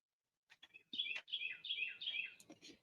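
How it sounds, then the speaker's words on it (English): A small bird chirps and trills in quick, bright phrases outdoors, fairly close and alone, with short pauses between bursts. "Can y'all hear the birds chirping?"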